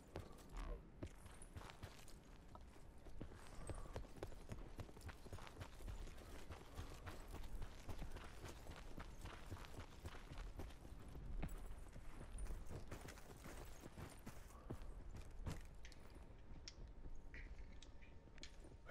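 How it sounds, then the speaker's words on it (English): Footsteps crunch and patter in a shooter game, a steady run of soft clip-clop steps across the whole stretch, with scattered clicks and faint game ambience beneath. "Hear footsteps."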